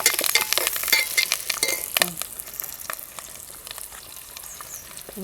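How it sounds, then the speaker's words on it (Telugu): Onions and curry leaves fry in hot oil for a fish curry, crackling and sputtering loudly up close with scraping stirs, then settling into a steady softer sizzle. "ఇక ఉల్లిగడ్డ వేసుకోవాలి చిటపాట్లు ఆడుతుంటుంది నూనె వేడి కాగానే"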